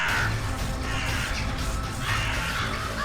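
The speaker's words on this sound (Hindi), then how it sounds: "इतने सारे कौवे।" A flock of many crows caws harshly and continuously, with overlapping calls close by amid dense, noisy surroundings.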